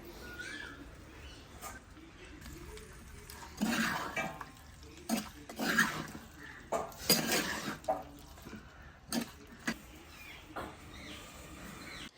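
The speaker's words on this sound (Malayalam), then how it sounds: "അങ്ങനെ നന്നാക്കി വെച്ച നല്ല കൊഞ്ച് മാങ്ങ ഇട്ടിട്ട് നമ്മൾ ഒന്ന് മിക്സ് ചെയ്തെടുക്കാം കേട്ടോ" Prawns and green mango stirred together in a curry pot, with soft clinks and scrapes of a spoon against the pot and a faint sizzle underneath, quiet and close.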